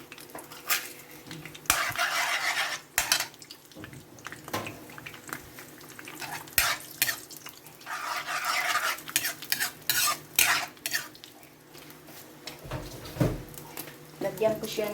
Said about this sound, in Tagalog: dito ko ipiprito ko muna tong ating itlog